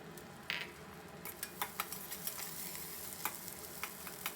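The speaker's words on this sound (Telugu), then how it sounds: "ఇప్పుడు ఇందులో ఆనియన్స్ కూడా వేసేసి వేగనిద్దాము ఈ విధంగా" Onions frying in a tempering of dried red chili and curry leaves for a cabbage and chana dal curry, a soft steady sizzle with light stirring clicks and scrapes, close by and fairly quiet.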